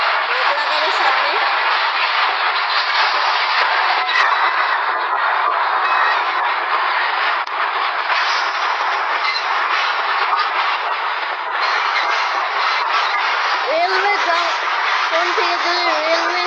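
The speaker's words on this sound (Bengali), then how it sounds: "মালবাহী ট্রেন আর যাচ্ছে একটা।" A freight train rolls past on the rails in a loud, continuous, even roar that stays close for the whole stretch, and a voice is briefly heard over it near the end.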